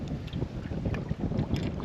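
Wind gusts steadily across open water around a small fishing boat, a continuous low rumbling buffet with no voices.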